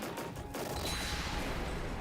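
Explosion from a battle in the video game Trails in the Sky SC, a dense, sustained roar of burst-like crackling that stays loud and continuous for about two seconds with no speech.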